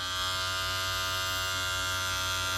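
An electric hair clipper runs steadily during a self-fade haircut, giving off a close, constant motor buzz with a rich harmonic drone and no speech or pauses.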